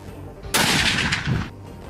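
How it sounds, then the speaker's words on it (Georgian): A single sharp sniper rifle shot cracks loudly, its blast and echo ringing out for about a second before fading, with no talking. "სნაიპერული შაშხანიდან გაკეთებული ერთი გასროლა კი ერთ მკვდარ მოწინააღმდეგეს უდრის."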